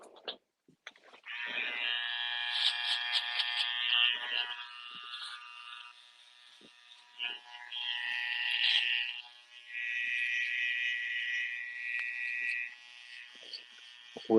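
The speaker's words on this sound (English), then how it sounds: "I'll lay down the clipper. I'll take the trimmer." Electric hair trimmer buzzing close up during a haircut, switching on and running in long stretches with short pauses, its tone shifting as it moves.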